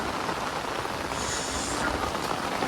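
Steady, dense rain falls continuously during a rainy cattle-herding outing, a loud even hiss of drops on surfaces with no voices.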